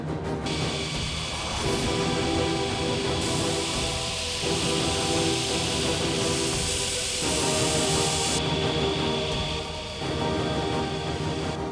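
A sander grinds the jagged edges of a plasma-cut steel blade replica with a loud, continuous hissing roar that swells and dips slightly as the piece is moved against it.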